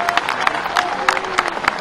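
A crowd claps steadily, dense overlapping applause from a room full of people at a BJP working committee meeting in Madhya Pradesh, with a faint murmur of voices mixed in.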